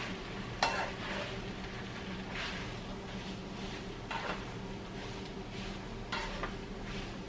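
A light sofrito fries in a pan while tamale fillings are prepared. A soft, continuous sizzle runs under repeated stirring strokes, with a sharp utensil clank near the start, and no talking.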